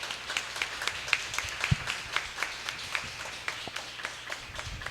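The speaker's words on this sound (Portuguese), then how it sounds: "Estou gostando das palmas também." A church congregation claps along in a steady rhythmic beat during Mass, the crisp hand claps fairly soft and spaced evenly, with one louder knock partway through.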